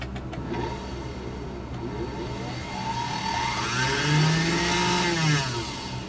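Singer 221 sewing machine with its belt removed, driven through a genuine bakelite foot pedal, gives a steady motor whir that rises and falls in pitch as the speed changes, close and continuous with no talk.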